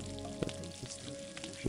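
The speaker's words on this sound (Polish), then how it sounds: "Tak się smaży mięso w tej grze" Meat frying over a campfire in the video game Gothic, a soft steady sizzle and crackle with a few brief pops, faint and continuous throughout.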